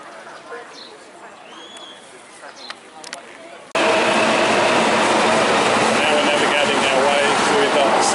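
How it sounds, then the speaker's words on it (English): A subway train in Osaka, Japan, arrives as a loud, steady rumble and rush of rolling wheels that suddenly swells and fills the space, after a quieter stretch of station ambience with faint voices. "Subway network as we catch a couple of trains back to the centre of Osaka."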